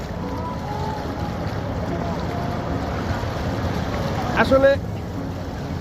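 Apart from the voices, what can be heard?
fast water current flowing over white stones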